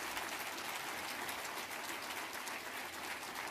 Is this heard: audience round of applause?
yes